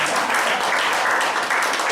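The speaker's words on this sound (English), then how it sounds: "Put your hands together for me now." Crowd at a motivational success talk claps together, a continuous, fairly loud patter of applause with no voices on top.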